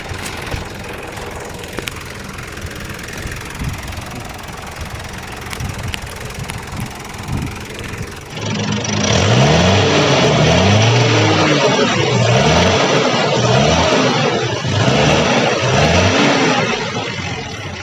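A 1981 Daihatsu Taft F50 engine cranks and catches after a quiet stretch, then settles into a loud, steady, close-up idle with a rhythmic low throb and no talk.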